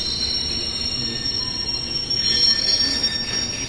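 A rumbling London Underground train at a platform, steady and loud, with high-pitched wheel squeal and hiss throughout.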